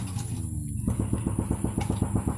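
Motorcycle engines rev up close by on both sides, a steady throbbing pulse that fills the short moment without any voices.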